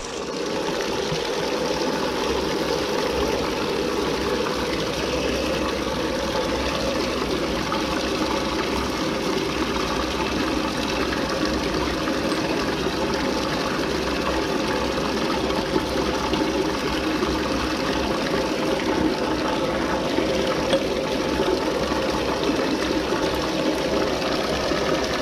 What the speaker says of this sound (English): notice I have some still in the flask. I'm going to try to rinse that out.